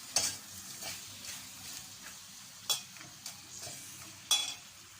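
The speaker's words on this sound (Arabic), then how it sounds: "هفضل بقى اقلبها في السمنه كده لغايه اما تاخد لون" Beef pieces sizzle softly in ghee with whole spices, a steady quiet frying hiss broken by a few sharp scrapes and knocks of a utensil stirring in the pan.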